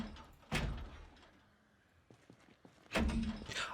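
A blocked door in the Project Zomboid video game gives two heavy thuds about two and a half seconds apart, each followed by a short rattle, with quiet faint clicks between them.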